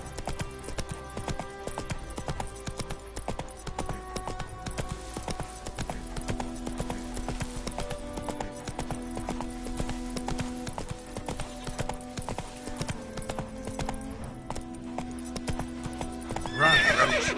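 Roach, Geralt's horse in The Witcher 3, gallops steadily with rapid rhythmic hoofbeats over a layered game soundtrack, with a whinny and louder burst of hooves near the end.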